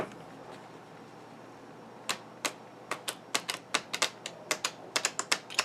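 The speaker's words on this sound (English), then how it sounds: "I'm shuffling these cards slow." A deck of playing cards shuffled slowly, giving a series of crisp clicking snaps that start sparse and then come quicker and more regularly, close and clear over a quiet hum with no talking.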